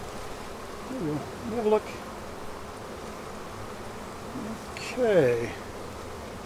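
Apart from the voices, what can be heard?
honeybees buzzing in an opened beehive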